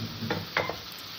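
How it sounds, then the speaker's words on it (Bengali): Prawns fry in oil and spice masala in a pan, giving a steady close sizzle with a couple of short stirring scrapes, and no voice. "মাছ কটা দিয়ে আমি আবার একটু ভালো করে কষে নেব"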